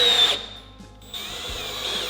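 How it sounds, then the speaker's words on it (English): A power drill drives screws into a Max-Rib exposed-fastener metal roof panel on a house, a close steady high motor whine that briefly drops out midway. "So we want to screw this down every 12 inches."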